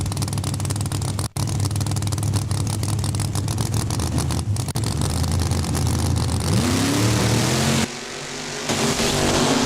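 A drag race car on its quarter-mile pass at Saskatchewan International Raceway roars loudly under open throttle, the engine note climbing and then dropping sharply near the end as it passes, heard alone without commentary.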